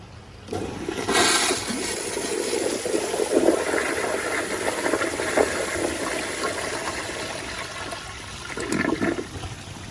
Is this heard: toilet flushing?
yes